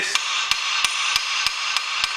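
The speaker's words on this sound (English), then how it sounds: "you're not supposed to hit the bolt with a hammer" A hammer strikes a bolt on an Opel Zafira engine in a garage: seven sharp, evenly spaced metallic blows ring out close and loud over a constant background hiss.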